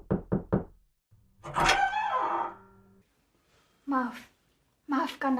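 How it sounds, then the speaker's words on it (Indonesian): Three quick knocks on a bedroom door during a stage play, sharp and close, followed by a person talking, then more voices after a pause. "Terdengar pintu kamar diketuk."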